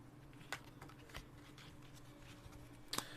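Tarot cards are shuffled quietly up close, with soft papery riffles and light flicks scattered over a few seconds against a faint low hum.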